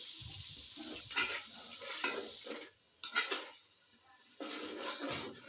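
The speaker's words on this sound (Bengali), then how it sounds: "এখন আমি আলুগুলো তুলে নিব আর এই একই তেলে আমি বিরিয়ানির জন্য মশলা কষিয়ে নিচ্ছি" Spices being fried and stirred in hot oil for beef biryani, the same oil used to fry potatoes, with bursts of close sizzling and scraping of a spoon against the pot, dropping out briefly around the middle before resuming.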